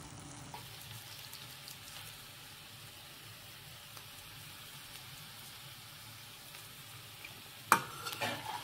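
Spinach saag cooking in a pan gives a faint, steady low sizzle with soft stirring scrapes throughout, and a sharper clatter of utensil against pan near the end.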